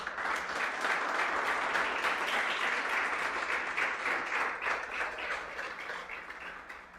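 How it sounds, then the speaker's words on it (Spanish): Steady, dense applause from a church congregation after a call to clap for the Lord, loud and sustained for several seconds before tapering off at the end, with no talking over it. "Den un aplauso al Señor."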